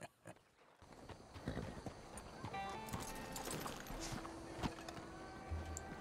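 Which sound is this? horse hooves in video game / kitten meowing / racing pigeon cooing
horse hooves in video game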